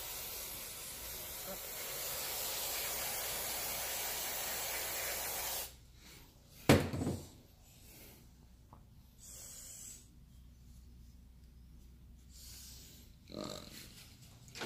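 A steady hiss of cleaner sprayed onto a carburetor choke for several seconds, then quieter, with a sharp clunk and a few brief shorter spritzes afterward.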